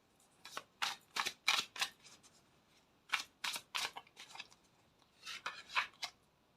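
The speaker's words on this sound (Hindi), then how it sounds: "ये शफल करके वापस से ले रही हूँ" Tarot cards being shuffled by hand, a series of crisp riffling bursts in three quick clusters separated by short pauses, close and fairly quiet with no talk over them.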